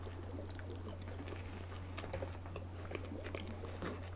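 Up-close chewing of fries and chicken strips, soft irregular munching and moist crunches over a constant low hum, no speech.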